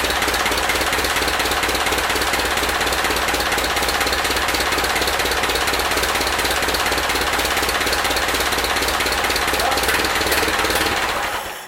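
A Ford tractor engine, part of an amphibious tractor build, runs steadily and loud for about eleven seconds with a rapid, hammering knock before cutting out at the end.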